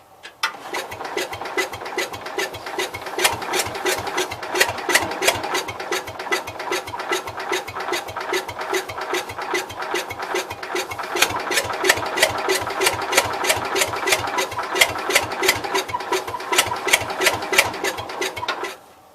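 A Cub Cadet 122 engine turns over on its starter in a long, even, rapid chugging rhythm for nearly twenty seconds without catching, heard close and alone.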